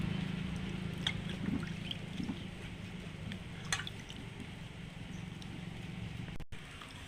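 Cut potatoes being washed in water, with soft drips and trickles and gentle splashing close by, steady and fairly quiet throughout with no talk.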